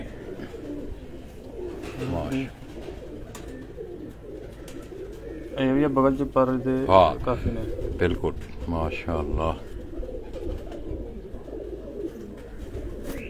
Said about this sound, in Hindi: ये बड़े नायाब कबूतर जो हैं ये आपको दिखाए जा रहे हैं